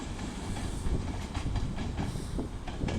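A Class 150 diesel multiple unit on the Buxton to Manchester service passing through Stockport station on the West Coast Main Line, a close, steady rumble with rhythmic clicks of wheels over rail joints.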